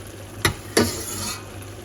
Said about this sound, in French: On met notre liquide, on va laisser réduire un maximum